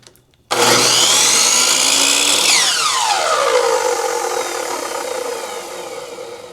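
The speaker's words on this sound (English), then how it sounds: "I have never tried to run a major power tool off a power station." A Chicago Electric power tool running off a Bluetti Elite 200 v2 power station starts with a loud whine, spins up, then its pitch sweeps downward and settles into a steady high drone.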